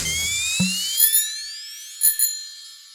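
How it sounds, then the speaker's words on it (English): Bicycle bell rung in two quick double dings about a second apart, bright metallic tones over a rising whistle-like sound effect, with no talking. "It's a bike bell."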